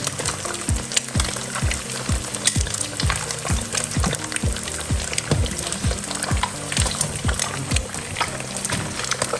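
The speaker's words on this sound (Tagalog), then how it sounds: "Mabilis po dito maluto yung itlog guys." An egg fries in a hot pan with a loud, continuous crackling sizzle and repeated sharp spattering pops close up, running steadily throughout.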